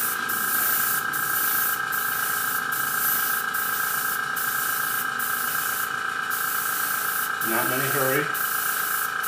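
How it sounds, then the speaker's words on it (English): A dual action airbrush lays down small mist coats as a steady close hiss with faint regular pulses throughout, while someone speaks briefly near the end. "Just small mist coats. This is a dual action airbrush"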